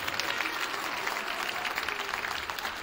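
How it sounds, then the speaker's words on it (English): A school send-off crowd applauds Miss Krebs at a swim, wrestling and DECA state send-off, with steady, dense clapping throughout, fairly close and continuous with no talk over it. "give Miss Krebs a round of applause"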